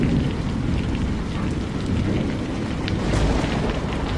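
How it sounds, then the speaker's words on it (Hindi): Heavy rain pours steadily and densely, with thunder rumbling low underneath throughout. No voices are heard. "तभी बारिश बहुत तेज होने लगी"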